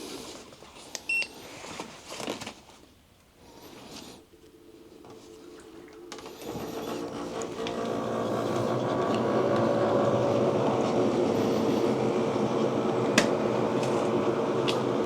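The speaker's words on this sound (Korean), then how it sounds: "텐트 안에서 에어컨을 켜고 얼마나 떨어지는지 한번 보도록 하겠습니다." A Mihole K3 Pro portable camping air conditioner is switched on inside a tent. A short beep is followed by fan and compressor noise that swells into a loud, steady drone, with no talking.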